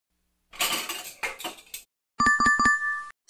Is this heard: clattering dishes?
yes